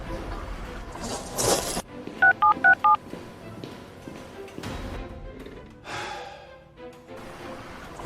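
A phone's keypad beeps out a quick run of about six evenly spaced dialing tones, loud and close, set between sighs, rustling and brief sounds of a person nearby.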